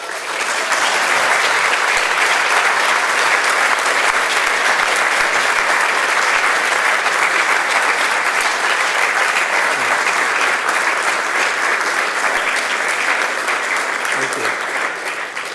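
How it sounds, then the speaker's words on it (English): Sustained, loud applause from a large audience at an undergraduate global health commencement ceremony, honoring graduating students, dense and steady clapping throughout with no pause. "They really deserve that applause."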